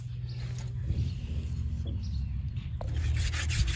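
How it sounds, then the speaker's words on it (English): A dry mullein stalk spun by hand in a divot in wood to make friction fire, giving a steady close low rubbing, grinding drone that holds for the whole stretch with faint bird calls in the background. "just spin it in that little divot until we start smoking and we burn a little spot there"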